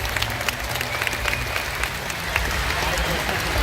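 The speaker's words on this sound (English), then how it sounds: "Everyone, one last big round of applause for our 2 volunteers." A crowd at a Sea World San Antonio show applauds two volunteers, the clapping spread thin and distant over a steady low rumble of the venue, with crowd noise and voices mixed in throughout.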